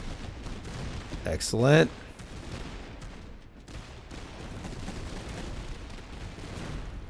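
Cannon volley in the video game Master of Command, a sharp burst of blasts and rumble rising briefly before fading into a low battlefield din, with a voice speaking over it.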